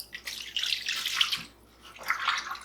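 Water sloshes and splashes in a kitchen sink as a smoker part is washed, in two close bursts of swishing with a brief lull between, moderately loud and with no talk.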